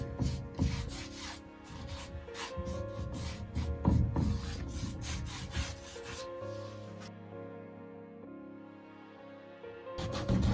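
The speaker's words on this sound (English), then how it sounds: "This bristle brush is really making it go in easier." A number 14 bristle brush scrubs acrylic paint onto a surface in steady, close back-and-forth rasping strokes, with a brief pause near the end and no voices.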